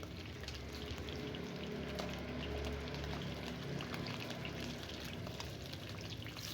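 Fish frying in a wok with chopped tomato, garlic and shallots, giving a steady, dense sizzle and crackle of hot oil that stays close and even throughout, with no talk.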